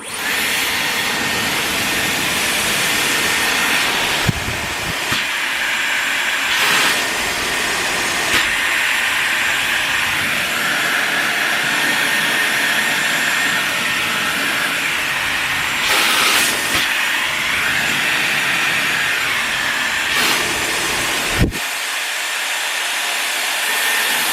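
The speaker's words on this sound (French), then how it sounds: "Ça a l'air d'être un bon sèche-cheveux." A Dyson Airwrap hair dryer blows air in a steady, loud, close whoosh for the full length, with a few brief changes in airflow and a short cutout near the end. No voices are heard.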